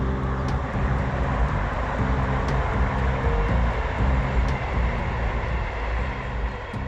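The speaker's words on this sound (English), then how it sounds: "Oh, that's the train." A low, steady rumble of a train rolling past nearby on a railway line beside a canal, with rhythmic clunks from the wheels over rail joints and no talking.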